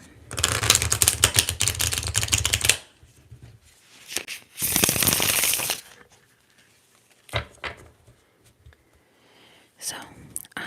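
Tarot cards are shuffled close to the microphone in two bursts of rapid riffling and flicking, followed by softer scattered taps and card sounds.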